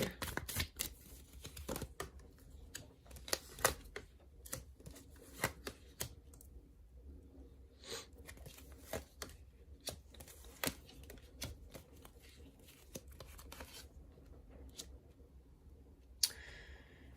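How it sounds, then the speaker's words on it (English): Tarot cards shuffled and pulled from a deck, a run of crisp slaps, flicks and riffles spread irregularly across the span, close and fairly quiet with no talking. "Let's pull out a few more cards and see though."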